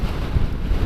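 Strong wind roars across the microphone on a solo motorcycle ride in the Philippines, a brief, continuous low buffeting rush with no voices.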